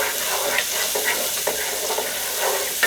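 Onions sizzle in oil in a Copper Chef pan, a steady close frying hiss broken by a few soft scraping stirs, with no talking.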